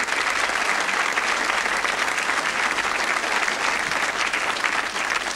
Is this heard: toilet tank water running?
no